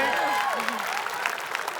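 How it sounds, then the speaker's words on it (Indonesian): Audience at an Indonesian comedy quiz show claps briefly and moderately loud, with voices and a bit of talk over the applause. "Ayo kita kasih tepuk tangan dulu."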